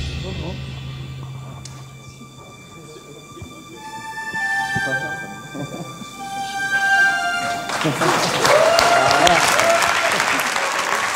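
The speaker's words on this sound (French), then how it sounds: "Vous faites applaudir la salle." Audience applause at the closing ceremony of an international adventure and discovery film festival, swelling from the middle and staying loud and sustained toward the end, with a voice speaking over it.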